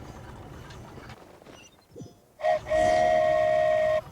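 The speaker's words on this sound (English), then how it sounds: "Choo-choo! Aerial Express moving out." A flying train, the Aerial Express in a video game, pulls away with a sustained steady whistle tone after a short toot, loud and close over quieter background sounds.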